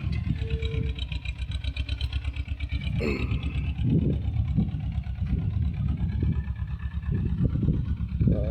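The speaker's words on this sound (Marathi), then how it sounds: "मालकाच्या ट्रॅक्टरने दण टाकायचं काम चालू आहे" Steady low rumble of a tractor engine running at a constant pace while spreading fodder in a field, fairly close, with the chugging drone continuing throughout and no talk.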